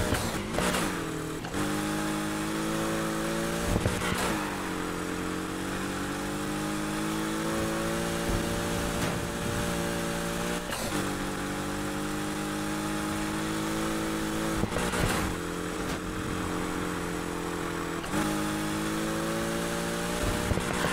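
Racing car engines roar continuously in Need for Speed Heat, a loud sustained drone with repeated rising revs that drop off at gear shifts every few seconds, alone without talk.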